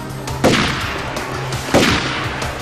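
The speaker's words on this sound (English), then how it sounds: "Somebody's shooting me." Two loud, separate gunshots in 007 NightFire, each a sharp close crack followed by a short decaying tail, spaced a little over a second apart with a low hum between.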